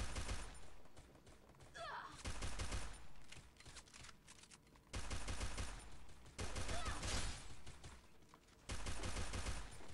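Gunfire in Garena Free Fire rattles out in several loud bursts of rapid automatic shots with short pauses between them, and faint voices sit in the background.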